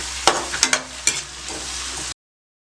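Sliced onions and green chillies fry on high heat in a pan, sizzling steadily with a few sharp stirring clicks and scrapes, close and clear, then cutting off abruptly.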